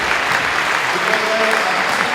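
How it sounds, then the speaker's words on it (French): Spectators at an amateur sports tournament applaud loudly and continuously, a steady dense wash of clapping over the short span, with a faint voice or two mixed underneath. "les applaudissements, merci"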